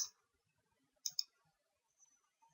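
A computer mouse gives a few sharp, faint clicks, one at the start and a quick double click in the middle, in an otherwise quiet room.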